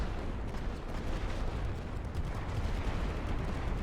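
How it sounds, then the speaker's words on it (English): Artillery barrage in the WWI video game The Great War: Western Front, a dense continuous rumble of distant overlapping booms with no clear breaks, steady and heavy throughout. "Start the barrage."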